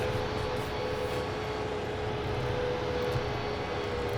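A passing train in a farming game gives a steady, loud rumbling drone with a sustained tonal hum, continuous and unbroken for the whole stretch.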